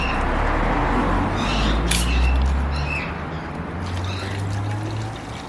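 Bundaberg ginger beer pours in a steady splashing stream, loud and close, over a low outdoor rumble with a brief bright bird-like squawk partway through.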